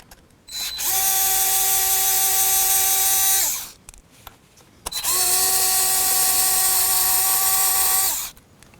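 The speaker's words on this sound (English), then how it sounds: "I'd rather you use an electrical screwdriver than a drill" An electric screwdriver backs screws out of a Can-Am Spyder F3 floorboard in two sustained whirring runs, each about three seconds long, loud and close with a steady motor pitch and a short pause between them. No one talks.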